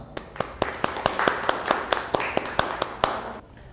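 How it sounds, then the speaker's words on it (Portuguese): Audience applause on a Brazilian television talk show, a steady run of crisp, evenly spaced claps that sounds like a small group clapping close by. "Vocês merecem uma salva de palmas."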